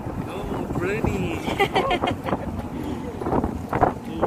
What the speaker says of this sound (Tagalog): masyadong malakas yung hangin